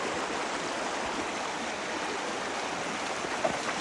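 Fast-moving stream water rushing steadily outdoors, a dense, unbroken loud wash with no variation and a single tiny tick near the end, no voices.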